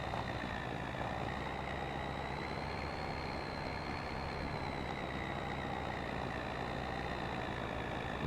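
Truck engine laboring uphill in Farming Simulator 25, a steady loud droning rumble with a sustained whine above it, unbroken and without talk throughout.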